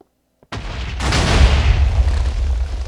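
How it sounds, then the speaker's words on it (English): A loud boom bursts out at a street intersection in a zombie video game, with a sharp onset and a long, rumbling roar that keeps going without fading for several seconds. "Each time you come to an intersection, it explodes."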